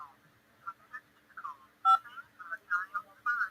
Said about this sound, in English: To accept this call, say or dial 5 now.